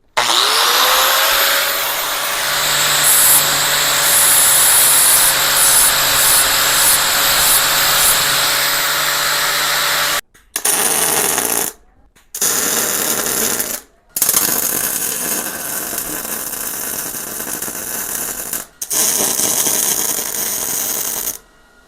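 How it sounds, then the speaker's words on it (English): A grinder cuts a bevel into thick steel for a bracket on a 1968 AMC Javelin, a loud steady whine running about ten seconds, followed by several buzzing welding bursts separated by short silences. "Now I'm going to put a little bit of a bevel on this because it's thick and I want my welder to be able to penetrate."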